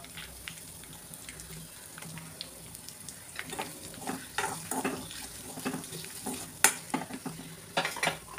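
Chili powder going into frying crushed garlic and ginger for Gujarati dal dhokli produces a soft, steady sizzle with frequent spoon scrapes and clinks that grow busier and louder toward the end.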